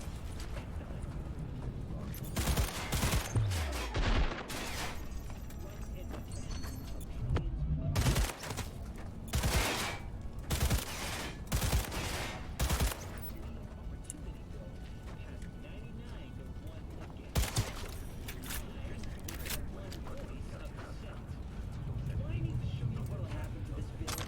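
Machine gun turret fire in the video game Cyberpunk, bursts of rapid gunshots cutting in and out over several seconds, with someone talking over the action.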